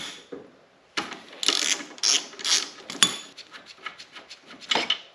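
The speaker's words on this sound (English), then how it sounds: "now we can take our 12mm socket, or if you're using a wrench, you can use your wrench" Close up, a 12mm socket wrench on a Kawasaki Vulcan motorcycle brake caliper bracket gives a quick run of ratchet clicks in several short bursts, as bolts come off with metallic ticks and a few louder clanks.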